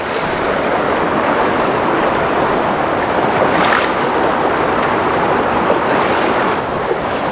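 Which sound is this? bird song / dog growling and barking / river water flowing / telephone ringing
river water flowing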